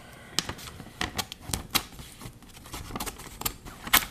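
Irregular series of crisp paper snips as scissors cut down the middle of the billing paper from a TCG Player trading card order, close and fairly quiet with no talking.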